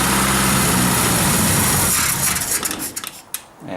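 A Triumph Herald engine idling on choke after fuel pump work, a loud, busy, high-pitched mechanical running that becomes uneven and sputtering toward the end, heard close.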